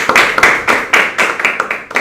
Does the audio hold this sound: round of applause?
yes